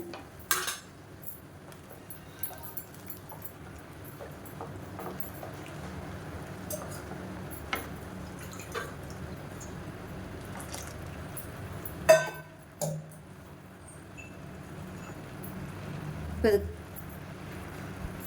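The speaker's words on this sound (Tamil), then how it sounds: "ஒரு 2 நிமிஷம் கை விடாமல் கலந்துகிட்டே இருங்க." A spoon stirs okra into moor kuzhambu in a metal pot, making sporadic soft scrapes and light metallic clinks, with a couple of sharper knocks against the pot over a quiet kitchen background.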